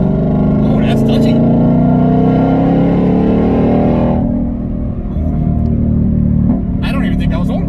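Ford Mustang engine while driving on a light throttle, a loud steady drone close up that briefly dips then resumes, with people talking over it inside the car.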